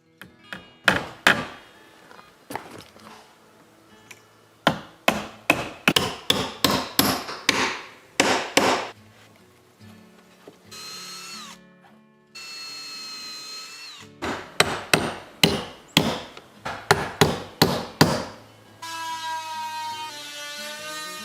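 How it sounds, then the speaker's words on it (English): Nails hammered into a very hard ash wood door frame, with pre-drilling between: rapid loud bursts of close hammer strikes alternate with stretches of whining power drill. "you have to pre-drill every nail or it'll bend right over"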